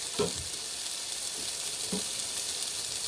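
Vietnamese pancake mixture gets a quick stir in a hot pan. A constant bright sizzle carries a few soft scrapes from the utensil, close by and with no voices.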